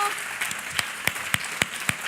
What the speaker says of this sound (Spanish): vamos a dar un aplauso de alegría, de gozo,